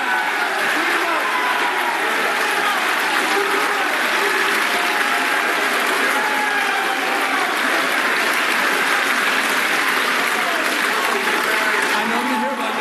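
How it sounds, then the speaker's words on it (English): A live audience gives loud, continuous applause with crowd noise and cheering, dense and unbroken at full intensity throughout. "That was the loudest applause we got."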